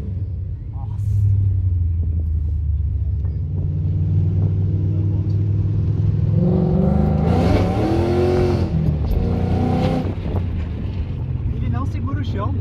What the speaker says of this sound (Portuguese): Bora andar de Mustangão GT500, 720 cavalos?